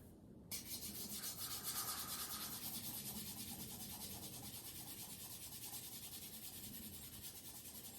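Pencil eraser rubbed back and forth on paper over a graphite skull drawing: a close, continuous fast scrubbing with a rhythmic rasp, starting abruptly and carrying on alone to the end.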